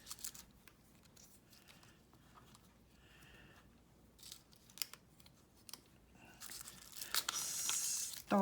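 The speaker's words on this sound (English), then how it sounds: "I will have to use my trimmer to get this" A paper trimmer slices through craft paper, a few sharp scraping cuts and tearing sounds building to louder rasps near the end, close by and heard alone.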